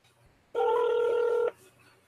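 Telephone keypad dialing tones for a toll-free 1-800 number, a single steady DTMF tone block of about one second, loud and clear against a quiet background with no talking.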